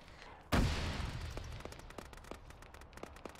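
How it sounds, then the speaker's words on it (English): A frag grenade in the military game Arma, played by ShackTac, goes off with a single sharp, heavy blast followed by a rumbling tail, then scattered distant gunshots crackle in the background. "throw a frag over the wall"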